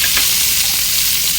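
Onion, green chilli and tomato sauté in hot oil in a kadai, a steady close sizzle and crackle of frying that runs continuously with no voices.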